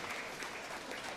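A congregation at a church homily claps in a steady, even burst that sounds somewhat distant and subdued.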